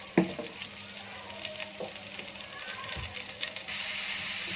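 Chicken frying in a pan with browned cumin, a soft steady sizzle with occasional clinks and stirring scrapes, moderately loud and continuous, intensifying slightly toward the end.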